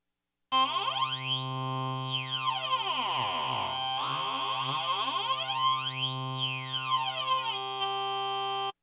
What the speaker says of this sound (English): So that's the sound of a comb filter.